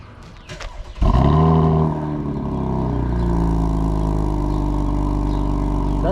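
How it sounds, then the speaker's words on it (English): A V6 car engine cranks and catches with a loud burst, then settles into a steady, deep, rumbling idle close by, with no talk over it. "Doesn't sound too bad for a V6."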